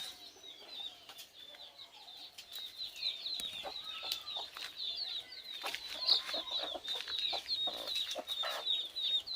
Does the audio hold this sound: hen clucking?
yes